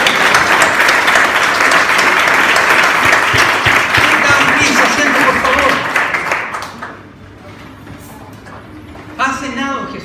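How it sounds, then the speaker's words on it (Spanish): Church congregation applauding at a Christian conference sermon, a loud sustained burst of clapping that fades after about six seconds, leaving a quieter room with a brief murmur near the end. "Demos un aplauso al Señor."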